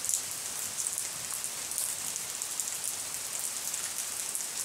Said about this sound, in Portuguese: Linda, linda chuva.